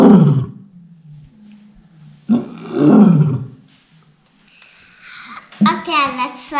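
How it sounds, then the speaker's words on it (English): Lion roar played through an Amazon Echo smart speaker, heard as two deep, rumbling roar bursts with a quiet gap between them, followed near the end by a voice speaking. "make a lion sound"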